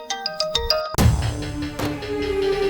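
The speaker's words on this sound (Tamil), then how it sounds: "ஸ்வேதால போன் பண்றா" Phone ringtone for an incoming call in a Tamil TV serial: a few bright melodic tones, then a sudden fuller musical burst that keeps ringing loudly and continuously, with no voices over it.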